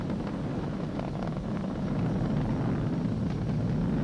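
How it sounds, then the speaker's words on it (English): A SpaceX Falcon 9 rocket throttles down its engines during launch, a steady broad distant roar with a deep rumble holding constant throughout, no voices. "We're throttling down to get ready for the period of maximum dynamic pressure."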